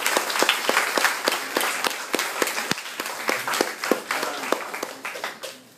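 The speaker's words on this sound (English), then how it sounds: "If we could give all the Green staff another round of applause." An audience at a school-network news conference gives the school staff a round of applause: steady, dense clapping from many hands that fades slightly toward the end, with no voices over it.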